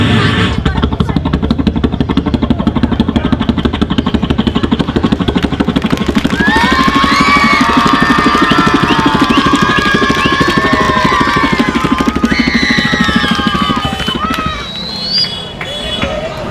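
A voice imitates a helicopter passing overhead, a loud, steady rotor-like chopping drone with rising whistling tones in the middle. Crowd babble runs beneath the sound.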